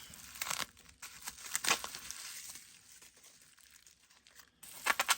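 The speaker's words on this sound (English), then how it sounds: "Let's cut the bubble wrap off." Bubble wrap is cut and pulled off a Mehano HO scale tender shell, with close crinkling and crumpling in bursts, a quieter stretch in the middle, then more rustling at the end.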